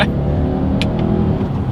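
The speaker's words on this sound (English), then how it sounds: "let's see how quickly we can get this turbocharged engine set up here up to speed" A 2020 Subaru Outback's turbocharged engine accelerates with a loud, steady drone that holds throughout, close by and with no one speaking.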